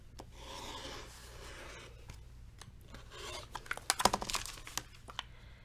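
Fabric being cut around a marked shape for a Sewcialites quilt block, a soft rubbing, rasping run of close snips and paper-like crinkles that grows louder and more clustered toward the end, with no talking.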